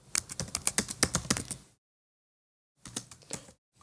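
Rapid keystrokes on a computer keyboard while typing CSS code for a search bar's navigation menu: a quick burst of clicky taps, a pause, then a few more keys, close and clear.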